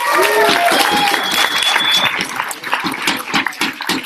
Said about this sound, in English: let's give Caleb a round of applause